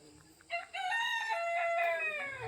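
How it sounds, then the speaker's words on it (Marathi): A rooster crows once at sunrise in a Konkan village, a long, loud, drawn-out call close by, standing alone against a quiet background. "कोंबड्याने आरोळी दिले"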